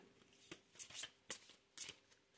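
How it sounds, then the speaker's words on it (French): Tarot cards are drawn and shuffled by hand, giving four or five soft papery riffling bursts at an uneven rhythm, close and quiet, with no talk. "Donc on va tirer 3 cartes"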